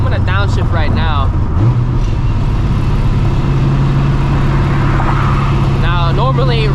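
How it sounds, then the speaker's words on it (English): A Procharged New Edge Mustang GT with a rattle fault drones loudly and steadily while downshifting, its engine pitch climbing as the gear drops, with someone talking over it. "I'm gonna downshift right now."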